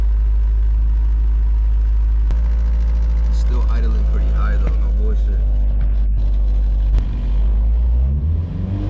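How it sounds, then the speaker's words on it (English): A Honda B20v engine with Hondata s300 tuning idles high, a loud, steady low drone close by. Someone talks over it. "It's still idling pretty high though"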